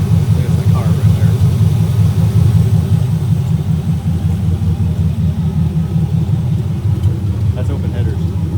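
A 1975 Pontiac Firebird Formula with an LS-swapped V8 runs on open headers, a deep, steady idle rumble that stays close and loud throughout, with faint voices in the background.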